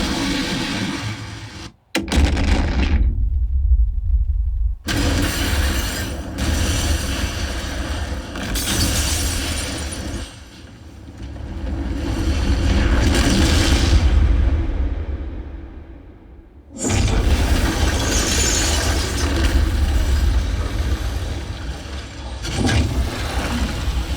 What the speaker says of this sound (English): The moment the nuclear explosion ignites, a massive wall of sound detonates across the upper soundstage